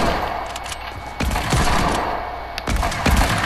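Gunfire during a trick shot attempt in Fortnite, loud and close, with several sharp shots over a steady bed of game noise.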